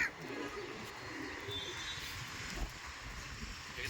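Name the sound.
pigeons at a pigeon market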